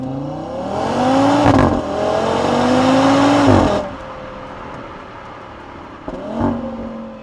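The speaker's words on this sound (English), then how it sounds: "To emphasize the sound, I put one microphone in the engine bay and one above the exhaust." A five-cylinder engine of a 2026 Audi RS3 Competition Limited revs hard with rising pitch, drops briefly, revs up again, then settles to a lower idle before a short final blip, miked in the engine bay and above the exhaust.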